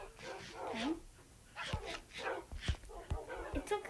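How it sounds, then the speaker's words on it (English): A tamed dog in Minecraft survival gameplay gives several short yips and whimpers amid game noises, fairly quiet, with people talking over it. "whose dog is this?"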